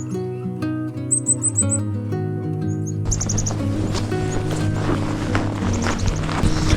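Small birds near a house give short, high, rapid chirps in quick bursts, sounding over a steady melodic music track.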